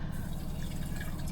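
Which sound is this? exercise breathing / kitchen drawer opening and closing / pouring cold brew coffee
pouring cold brew coffee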